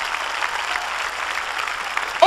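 A church congregation applauds for the Lord during a worship service, a steady, dense wash of clapping that holds evenly through the whole stretch with no pause.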